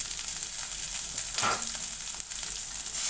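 Tomato puree fries in a pan for an eggplant, chana dal and tomato curry, giving a steady close sizzle with a brief stirring scrape partway through.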